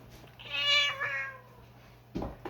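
A cat gives one drawn-out, fairly loud meow that bends up and then trails off, close by in a quiet room, followed by a brief thump.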